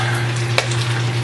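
Egg rolls sizzle steadily as they brown in a frying pan, a continuous close hiss over a low electrical hum, with one brief clink partway through.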